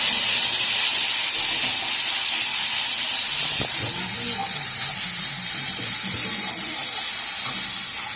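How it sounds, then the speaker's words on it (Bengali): Coconut paste and turmeric fry in hot oil with a steady, loud sizzle and hiss, broken by a few soft stirring scrapes through the middle, no voices. "একটু তেলে পরে হলুদ দিয়ে দিলাম। এবার আমি একটু নাড়াচাড়া দিয়ে নিই।"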